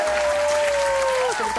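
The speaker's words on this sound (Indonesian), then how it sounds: "Tepuk tangan." Brief burst of applause in a radio podcast studio, steady dense clapping with a sustained tone running over it, ending in a short dip.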